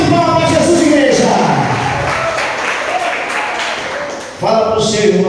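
A church congregation claps together during a prophetic Thursday worship service, producing a dense, steady wash of hand claps that runs the whole time while a voice calls out loudly over it.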